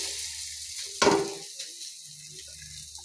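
An egg dropped into hot oil in a pan, giving a sudden loud sizzle burst that fades into a soft, steady crackle of frying, close up and alone.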